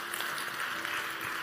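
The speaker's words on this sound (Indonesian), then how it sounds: "Tepuk tangan, saudara." A church congregation claps together in a brief, continuous burst of applause that fills the room.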